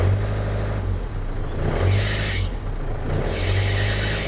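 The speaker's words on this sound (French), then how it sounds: "courroie d'alternateur qui patine" An old Iveco diesel idles with a deep, loud rumble as its slipping alternator belt lets out repeated squealing bursts, two strong squeals roughly a second and a half apart over the engine noise.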